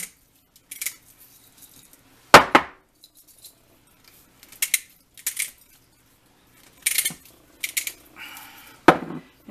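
Onions being stuffed down into a glass pickling jar: sharp clinks and scraping knocks in irregular bursts, loud and close, with quiet rustling between them.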